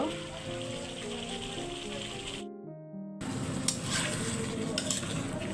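Ash gourd and fish curry frying in a pan, a continuous close sizzle with stirring scrapes, briefly broken by a short quieter gap before the loud frying resumes.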